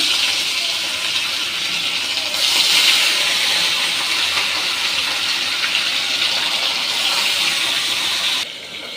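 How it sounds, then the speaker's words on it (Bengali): Fish frying in hot oil in a home kitchen, a loud, steady hissing sizzle that swells briefly partway through and then drops off near the end. "আমি এখন মাছটা ভাজি করে নিচ্ছি"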